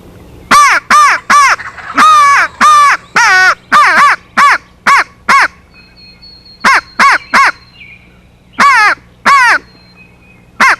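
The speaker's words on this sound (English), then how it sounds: "So many times, I'll bite down on the crow call to use it more of a shriller type sound." A hand-blown crow call, bitten down for a shrill tone as used in wild turkey hunting, gives a series of loud, sharp caws in quick bursts with short pauses between groups, alone and close.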